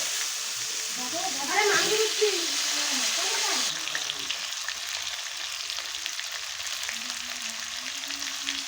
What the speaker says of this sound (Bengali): জিরে আমার হয়ে গেছে, এখন দিয়ে দেবো আলু